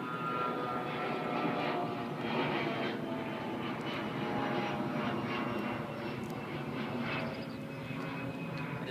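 A CRJ regional jet passes overhead at JFK airport, a steady roaring engine drone heard from the ground at moderate distance, holding level throughout with no voices.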